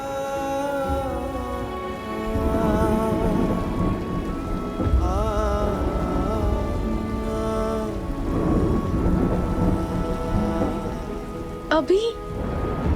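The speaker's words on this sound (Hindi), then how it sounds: "बारिश भी बहुत हो रही है।" Heavy rain pours steadily at night with rolls of thunder, a dense constant hiss near and loud throughout, while people talk over it.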